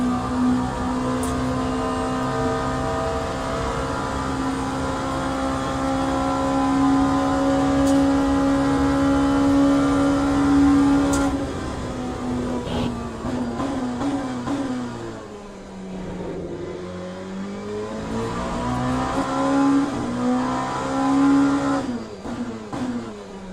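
An LMP2 race car in the Le Mans Ultimate game drones loudly at high revs, its engine pitch holding steady, then dropping sharply as it brakes and climbing again as it accelerates.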